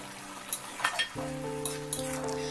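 Leftover fish dropped into bottle gourd cooking in a pan, bringing a sudden loud sizzle and frying crackle with a few utensil clinks, close and steady without talk.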